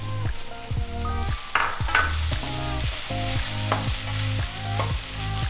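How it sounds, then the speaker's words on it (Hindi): Chopped carrots and beans stir-fry in a hot pan for fried rice, a steady sizzle broken by rhythmic scraping strokes of the spatula, close and fairly loud with no voices. "हम इसमें कटी हुई गाजर और बीन्स डाल देंगे।"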